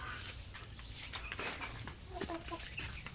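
Chickens cluck in a breeding pen among farm breeder birds, with soft, scattered calls and a few louder clucks over a constant low background hum and occasional shuffling footsteps.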